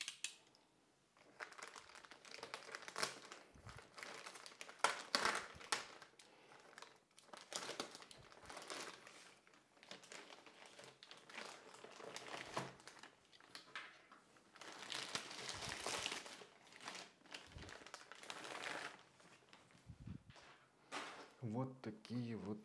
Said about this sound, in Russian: Вот они запакованы в такую вот клеенку. Ну, открываем и смотрим,